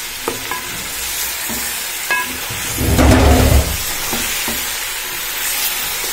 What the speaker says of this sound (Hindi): ये तकरीबन मैं 5 मिनट भूनूंगी ताकि ये लहसुन का कच्चापन है ये दूर हो जाए